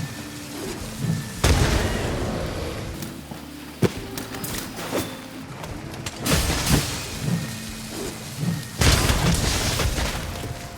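Charge Blade phial explosions from Monster Hunter Rise: Sunbreak, several loud booming blasts at irregular intervals with rumbling tails, over ongoing game combat noise and a low background hum.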